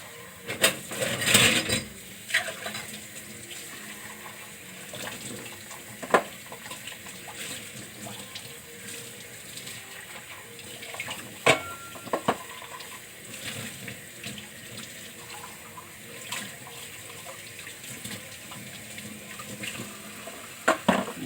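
Dishes being washed under a running tap at a sink, with a steady rush of water broken by clinks and knocks of crockery and utensils, close and continuing for a long stretch without talk.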